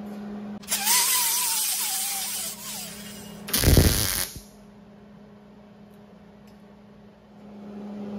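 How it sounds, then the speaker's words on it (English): A handheld grinder and then a wire brush work over a bad, porous weld on a car's rust-repaired rear crossmember. A harsh, loud high whir runs for a few seconds, then a shorter rougher burst, with a faint hum before and after. "I'm gonna go ahead and grind that off and wire brush that area and try that again."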